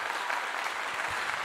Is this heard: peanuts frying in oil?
no